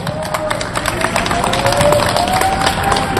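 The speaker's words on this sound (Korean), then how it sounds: "여러분들 큰 박수로 맞이해 주시길 부탁을 드리겠습니다" A crowd at a patriotic rally in Busan claps steadily to welcome a retired professor to the stage, a dense continuous patter with a faint tonal hum and crowd murmur underneath.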